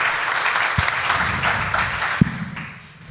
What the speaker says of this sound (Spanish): Recibamos entonces con un fuerte aplauso a María Teresa Segada